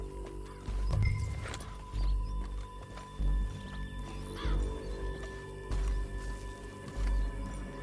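Rhythmic hoofbeats of a galloping horse in the video game Red Dead Redemption 2, repeating in bursts over a low rumbling game soundtrack, no voices.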